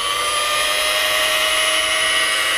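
Rotary polisher spinning steadily on a painted panel, working buffing compound into fresh clear coat; a continuous high-pitched motor whine with a constant tone and even loudness throughout, no voices.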